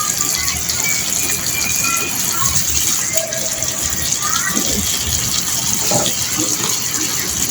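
Oil sizzles in a pan while catfish adobo in coconut milk is cooked, a continuous close hiss and crackle with a person talking over it.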